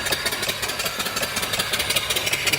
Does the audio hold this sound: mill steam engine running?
yes